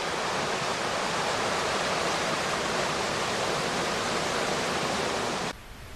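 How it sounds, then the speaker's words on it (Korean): Biryong waterfall plunging 68 metres, a loud, steady, thundering wash of falling water that fills the whole span, dropping off abruptly just before the end. No voices. "68m 높이에서 떨어지는 물소리는 마치 천상에서 지상으로 떨어지는 것 마냥 우레소리를 내뿜는다"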